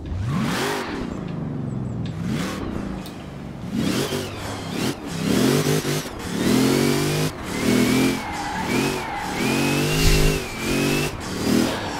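A Jeep CJ5 Renegade swapped with a 7-litre V8 making over 1300 hp revs repeatedly in the racing game Forza Horizon 4, loud rising and falling engine sweeps in steady bursts.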